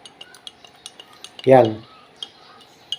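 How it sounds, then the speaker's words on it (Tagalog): A spoon stirs acidic soap in water, tapping the container in steady, evenly spaced clinks throughout. A person says a single short word partway through. "Ngayon, haluin natin."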